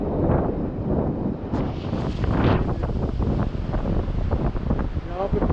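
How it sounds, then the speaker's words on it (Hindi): Strong, fast-flowing river water in the Harsil valley rushes as a loud continuous roar, with wind buffeting the microphone and a voice talking over it. "पानी का तेज बहाव।"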